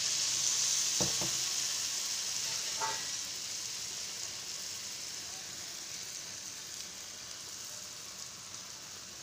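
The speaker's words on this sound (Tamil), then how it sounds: "சுடுறதுக்காக எண்ணெய் வச்சுட்டேங்க. ஊற்றிக்கலாம் நம்ம இப்போ நெய்யப்பம்." Nei appam, a sweet rice fritter, fries in hot oil with a steady, soft sizzling hiss that fades slightly over time, broken by a couple of brief clicks near the start.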